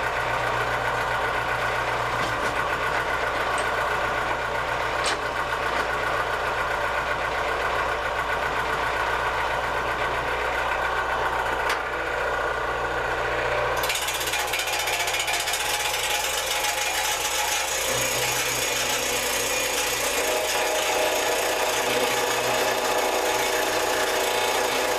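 A Harbor Freight metal-cutting band saw runs steadily with a loud mechanical drone and rattle, its tone shifting partway through as the cut changes, with no talking.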